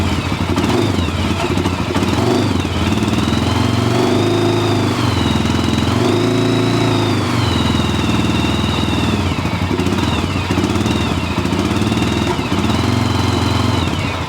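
A Honda TRX400 quad's engine runs rough and unsteady without settling into an idle, a loud, continuous clattering drone with a wavering, uneven pitch, close up throughout.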